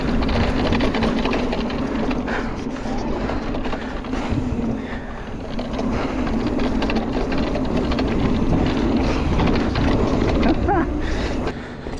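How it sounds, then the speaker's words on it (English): A mountain bike rattles and clatters continuously while riding down a trail, a busy mechanical chatter mixed with rolling tyre noise and wind, steady and close throughout. "Oh, this bike rattles like crazy though."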